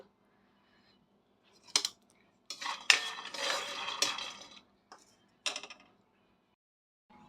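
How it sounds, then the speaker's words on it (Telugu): Peanuts being dry-roasted in a hot pan on the stove while cooking a stuffed bitter gourd fry for lunch, heard as short, close bursts of rattling, scraping stirs separated by quiet pauses. "నేను ప్యాన్ కొద్దిగా హీట్ అయిపోయిన తర్వాత మూడు టేబుల్ స్పూన్స్ వచ్చేసి నేను పల్లీలు అన్నవి వేయించుకుంటున్నాను"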